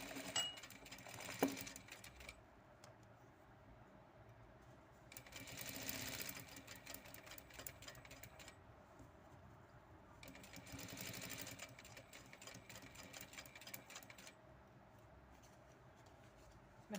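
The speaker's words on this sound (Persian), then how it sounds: "من الان دور تا دورش رو سوزن زدم و شروع میکنم به دوختن" Sewing machine stitching around a pinned nut bag in rapid bursts, three long runs of fast mechanical clatter separated by quieter pauses, close and alone.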